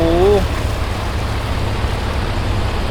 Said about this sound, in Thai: โอ้ยฝนตกอีกแล้ว